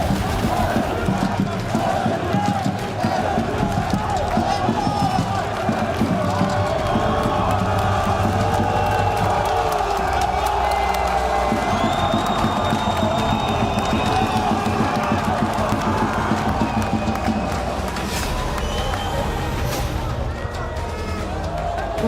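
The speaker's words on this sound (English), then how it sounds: "What a noise, what a crowd" Loud, continuous crowd roar and cheering fills a Call of Duty esports playoff arena, with shouts and hubbub swelling throughout and no clear words over the din.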